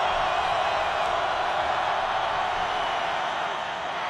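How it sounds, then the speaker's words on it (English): Football stadium crowd at the Mountain West Championship, San Diego State against Wyoming, building to a loud, steady roar on third down, a dense wall of voices that holds for the whole stretch. "Crowd getting loud."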